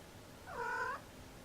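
A single short cat meow, faint and slightly rising then falling, over quiet room background.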